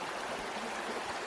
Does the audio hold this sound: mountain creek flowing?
yes